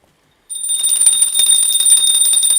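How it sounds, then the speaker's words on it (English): A hand bell rung during a Hindu arati ritual starts after a brief silence and then keeps ringing rapidly and brightly, loud and close, with a sustained metallic shimmer. "please ring the bell as you do so"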